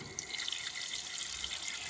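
Water runs steadily into a container as it fills, a continuous close hiss and splash with no voices.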